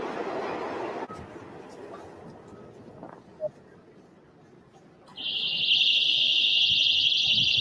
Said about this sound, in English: Balloons have alarms attached to them